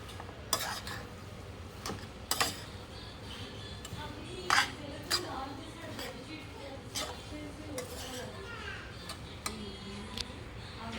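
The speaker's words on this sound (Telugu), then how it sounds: "వేసిన తర్వాత అలా కలుపుకోవాలి." Borugula upma, puffed rice, stirred in a pan: repeated light scraping and tapping of a spoon in an uneven rhythm, close and fairly quiet, with faint sizzling underneath.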